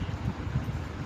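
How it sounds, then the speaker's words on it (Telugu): Wind blowing outdoors buffets the microphone with a steady low rumble, fairly quiet and continuous throughout, with no voices. "వాతావరణం కూడా గాలి కూడా చాలా బాగా వీస్తుంది"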